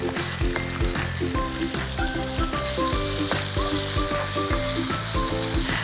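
Chicken pieces sizzle loudly and continuously in a hot pan with garlic, close up, with rhythmic spatula strokes and scrapes repeating throughout and no voices.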